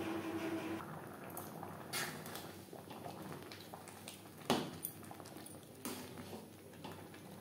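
Masoor dal and banana stem simmer in a covered pot with a soft, steady bubbling hiss, faint and close, broken by a few small pops and lid clicks.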